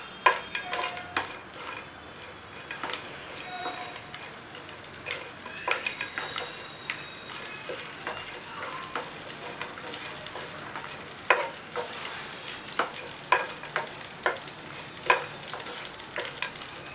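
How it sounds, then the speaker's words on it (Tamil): Cashews, almonds and pistachios fry in a pan for a chocolate vermicelli kheer, with a soft, steady sizzle and frequent light stirring clicks and taps against the pan. "இதில் வந்து நம்ம நட்ஸை வந்து கொஞ்சம் வந்து ஃப்ரை பண்ணி எடுத்துக்கலாம்."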